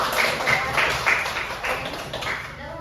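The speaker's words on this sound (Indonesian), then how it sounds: "Tepuk tangan untuk" Students in a classroom applaud a group that has just presented its math discussion on arithmetic sequences, with a short run of moderate clapping bursts over a soft background murmur and faint voices.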